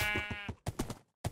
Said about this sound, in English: Okay, here's a sheep.